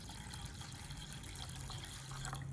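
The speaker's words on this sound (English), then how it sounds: "Then placed into a pot with enough water added at one time." Water poured in a steady, continuous gush into a pot of beans, filling it at a fairly even level throughout with a faint rising tone near the end.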